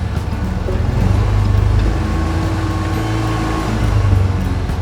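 A boat engine started with the choke pulled out runs as a steady, loud low rumble that swells slightly midway and holds throughout, with no voices over it.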